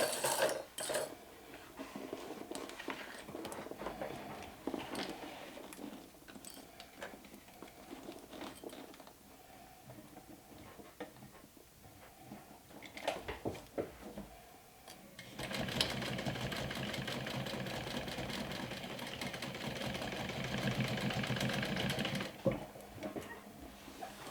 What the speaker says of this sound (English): I'm gonna do a line of stitching